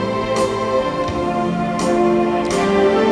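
Social dance music in waltz time plays at moderate volume, with a steady three-beat pulse and accented downbeats recurring under sustained tones.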